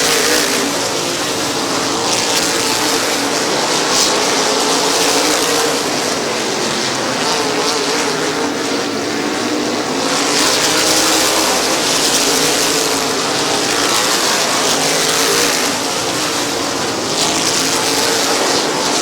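Race cars roar around the oval at Midvale Speedway in a dense, continuous engine din that swells and fades as the pack circles, loud and steady throughout with no clear voices.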